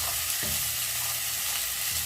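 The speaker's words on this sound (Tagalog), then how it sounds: "isang puso ng bawang at saka white onion. Igisa natin." Garlic and white onion sautéing in a hot pan produce a dense, steady sizzle close up, broken by a few brief stirring knocks.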